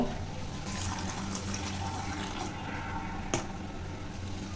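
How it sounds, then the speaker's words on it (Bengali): Water sloshing and trickling steadily as pulao rice is rinsed by hand, with a brief sharp clink partway through. "এখন এই চাউলটাকে ভালো করে ধুয়ে নেব।"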